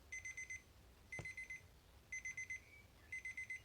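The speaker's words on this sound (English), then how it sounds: "The alarm is working." A pink and red square quartz travel alarm clock rings with soft, high electronic beeps, sounding in short rapid groups of four separated by brief pauses. The beeps are faint and close, with nothing else heard.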